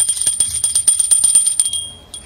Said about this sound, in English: It's time to ring the truth bell.